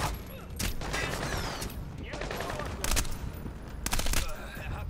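Rapid bursts of gunfire and machine-gun fire in the video game Splinter Cell: Blacklist, loud and repeated with sharp cracks across the clip, faint voices underneath.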